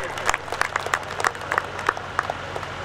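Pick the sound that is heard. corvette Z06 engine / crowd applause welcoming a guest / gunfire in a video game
crowd applause welcoming a guest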